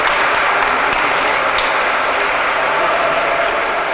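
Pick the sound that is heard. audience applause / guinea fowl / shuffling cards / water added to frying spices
audience applause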